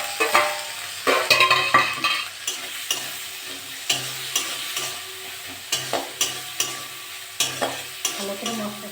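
Tomatoes and spices fry in oil for an amadi fish chorchori with onion, the loud sizzle overlaid by brisk, repeated spatula strokes and clinks against the pan throughout.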